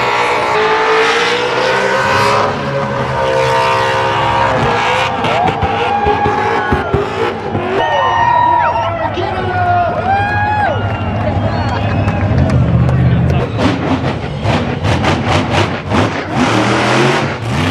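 A Crown Victoria race car engine revs loudly at a car race, a sustained roaring drone with rising and falling pitch over crowd noise, while an announcer talks over it.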